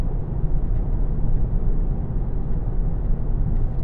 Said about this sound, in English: Little bit of tyre noise, which you'd expect from the low profile tyres and the harder suspension.